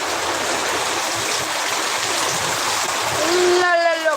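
Heavy rain driven by strong wind makes a steady, dense hiss throughout, and a rising tonal sound cuts in over it near the end.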